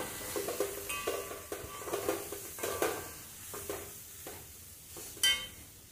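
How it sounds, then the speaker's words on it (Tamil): A spoon scrapes and stirs cauliflower fry coated with rice flour in a sizzling pan, with repeated, uneven strokes and a soft, steady frying hiss throughout, plus one sharper clink of metal near the end. "நல்லா கிளறி கொடுக்கணும்."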